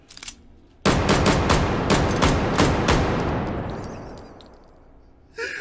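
Gunfire through the Loudener muzzle device in the VR shooter H3VR, a rapid burst of harsh, very loud automatic shots followed by a long ringing echo that decays over several seconds.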